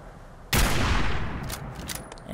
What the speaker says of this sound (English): this takes the hunting rifle's firing and reloading sounds and makes them have more power behind them